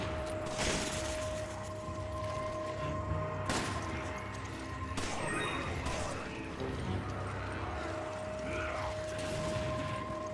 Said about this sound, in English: I'm going to snipe these guys from afar